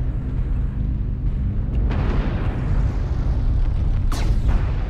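Airstrike explosions rumble and boom in the MechWarrior Online video game, a sustained heavy low roar with a sharp burst near the end, loud and close.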